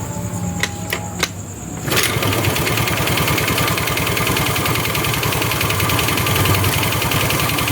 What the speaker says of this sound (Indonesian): Mesinnya sudah hidup